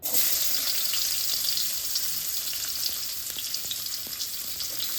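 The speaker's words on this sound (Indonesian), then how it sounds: "waktunya kita tumis bumbu untuk sayurnya" Spices are sautéed for a vegetable dish in oil left over from frying fish, producing a loud, steady close-up sizzle that carries on throughout without speech.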